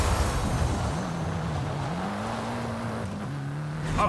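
A Mercedes-AMG One drives in Forza Horizon 5, its engine holding a steady, rising and falling tone that climbs in pitch as it accelerates, moderately loud with no talking.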